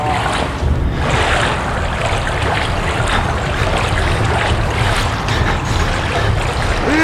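Steady rolling waves and rushing water in the video game Outlast fill the whole stretch, a broad continuous surf-like wash with no voices.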